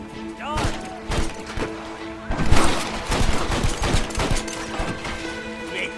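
Intense gunfire in the Western game Red Dead Redemption, with rapid bursts of rifle and pistol shots, thuds and ricochets, and loud shouting voices over the firefight.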